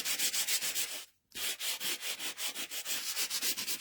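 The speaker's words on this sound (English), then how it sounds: "But you can use sandpaper, any sanding block. And we're just going to sand our embossed piece more." A sanding block rubs back and forth over an embossed two-tone cardstock piece in a steady, even rhythm of rasping strokes, up close and alone, with one brief pause partway through.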